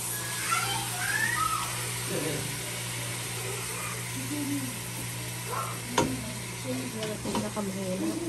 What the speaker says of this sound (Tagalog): Nagisa na si Neri, guys.